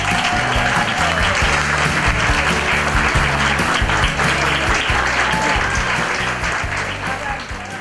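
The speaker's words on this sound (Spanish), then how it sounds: "Un fuerte aplauso para Néstor Palmetti" Loud, dense applause from an audience greeting speaker Néstor Palmetti at a festival event, sustained evenly with a low background hum and easing slightly near the end.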